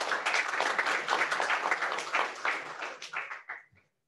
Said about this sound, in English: Can we have a round of applause for Ori?